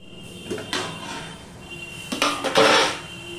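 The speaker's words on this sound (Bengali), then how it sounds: "এবার আমি এটা ঢাকা দিয়ে মজিয়ে নেব।" A lid is set over a cooking pot of ash gourd with salt, giving a couple of metallic clanks and scrapes over a steady background hiss at close range.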